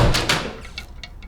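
A bathroom door's handle, the door swinging and its hinge squeak layered together: a close, loud rattle up front, then a few short squeaky chirps trailing off.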